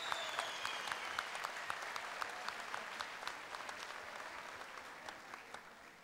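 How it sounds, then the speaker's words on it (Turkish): Studio audience applause for a contestant on the Turkish talent show Popstar, a sustained, even wash of many hands clapping, quite distant and soft, with no voices over it. "Dilara'ya kocaman bir alkış daha yolun başında çünkü."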